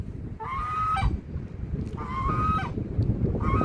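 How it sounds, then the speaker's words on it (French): A flock of ducks honking and quacking in bursts on the flooded banks of the Saône, three loud calls over steady wind and rushing outdoor noise. "tout ce paquet de canards"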